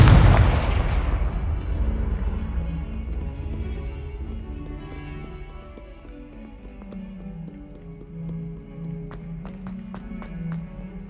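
A Confringo blasting spell explodes in the Hogwarts Legacy video game, a loud blast right at the start that rumbles and fades, followed by a soft game melody and a few sharp clicks.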